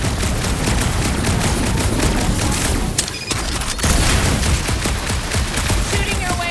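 Gunfire and blasts in the Marvel's Guardians of the Galaxy action game, a dense continuous barrage of shots and booms, loud and sustained with a brief dip midway.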